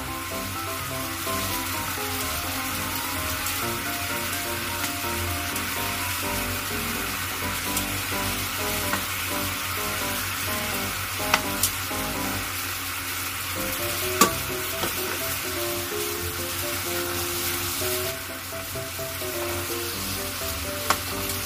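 Pork belly and Chinese yam frying with mirin over high heat give a loud, unbroken sizzle and crackle, close up, with occasional light clicks of a utensil against the pan.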